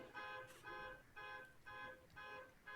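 A car alarm blares in repeated cycles of a high, harsh, pulsing electronic tone, each burst lasting about half a second with short gaps between, fairly loud and steady with no voices over it.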